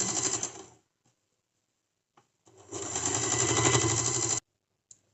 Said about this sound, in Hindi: अब हम इसमें सिलाई चला देंगे।